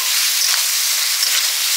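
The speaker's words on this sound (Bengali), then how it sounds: "কচু শাক রান্না করার জন্য সরষের তেল দিয়ে দিচ্ছি কড়াই। চিংড়ি মাছগুলো প্রথমে দিয়ে দিচ্ছি।" Prawns dropped into hot mustard oil in a wok, producing a loud, close, steady sizzling hiss that continues unbroken, with no voices.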